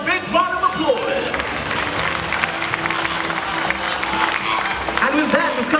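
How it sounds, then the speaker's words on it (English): An audience applauds after the grand finale of a bird show in Singapore, with steady clapping and crowd noise mixed with talk and some cheering over the whole stretch. "Let's give them a big round of applause."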